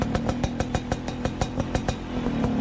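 An old, much-loved motorbike is ridden along, its engine chugging in a steady fast putter of evenly spaced pulses, loud and close throughout.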